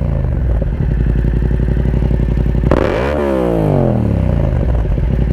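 A Yamaha MT-07 with an Akrapovic carbon exhaust and the baffle removed idles with a loud, raspy burble. It then revs sharply, the pitch rising and falling back, heard up close.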